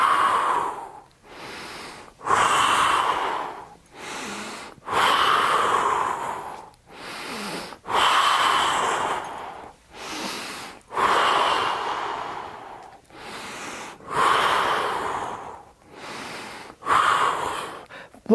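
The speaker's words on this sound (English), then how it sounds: "You're breathing." Slow, rhythmic breathing during a one-legged balance exercise with dynamic figure-eight movements, each deep inhale and exhale heard up close and loud with brief pauses between, about a dozen breaths in a steady pattern.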